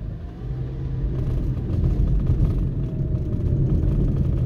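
A car driving at night through New Kingston toward Half Way Tree, heard from inside as a loud, steady engine and road rumble with a gentle swell, no talking.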